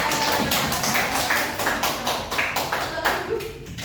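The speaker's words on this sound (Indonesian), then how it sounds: "Tepuk tangan buat kelompok 2." Schoolchildren in a classroom clap for a student group, a brisk patter of many hands at moderate distance that runs for several seconds and gradually thins, with faint voices mixed in.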